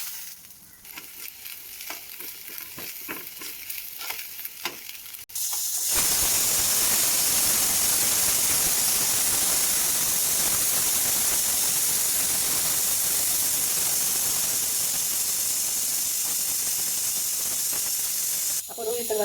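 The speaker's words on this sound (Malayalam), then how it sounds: "നമ്മൾ തേങ്ങ ഇട്ട് കൊടുക്കാം. ഇനി നമുക്ക് ഇച്ചിരി വേപ്പില ഇട്ട് കൊടുക്കാം." Grated coconut and curry leaves go into a pan of coconut oil: first quieter clatter and stirring with a light sizzle, then a sudden loud, steady, hissing fry that holds for over ten seconds close by.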